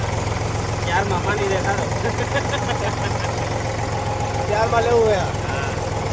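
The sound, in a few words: old tractor engine idling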